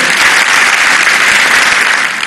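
Loud, dense audience applause at a formal programme, continuous hand clapping from a crowd filling the whole moment at steady intensity.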